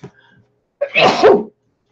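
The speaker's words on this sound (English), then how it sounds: "I'm gonna sneeze." A single loud sneeze bursts out close by, with a brief sharp intake beforehand and a small murmur just before it.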